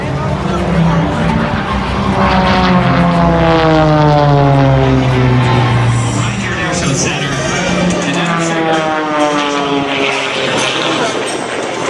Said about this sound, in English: We're watching airplanes flip